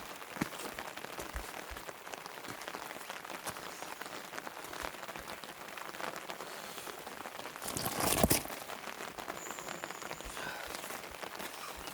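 Steady rain falls at dawn beside a cold upstream stream of the Nakdong River, a dense even patter of drops on wet stones and ground with a brief louder swell near the end.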